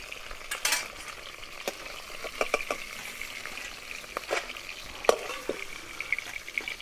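Fish heads frying in hot oil: a soft, steady crackling sizzle with sharp spattering pops and a few clinks of a utensil, close by and alone.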